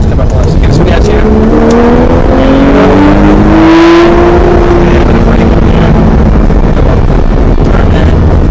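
An exotic sports car speeds around a racing track at MSR Houston, its engine rising in pitch as it accelerates, loud and close under heavy wind buffeting, with an instructor talking over it.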